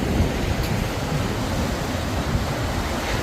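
Sea waves wash onto a shore in a constant roar of surf, with a broad, even rush of water and wind that stays loud for the whole stretch and no voices.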